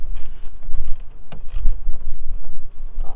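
A ratchet tightening a long bolt on a Volvo XC70R headlight, heard as close, uneven bursts of clicking with short pauses between strokes.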